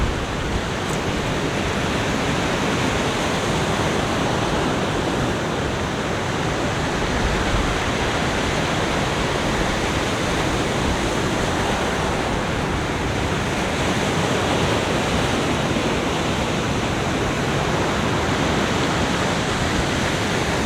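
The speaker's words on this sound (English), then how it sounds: "you could actually see waves as it went up as I start pulling back the rocks" Waves wash up and pull back over rocks on a Barbados shore along the old train line near Tent Bay, a continuous loud broadband roar of surf and churning stones with no talk.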